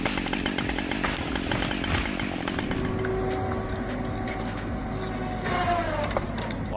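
A Husqvarna chainsaw bucks fallen trees, its engine buzzing steadily at moderate distance, with the pitch shifting slightly as the chain works through the wood.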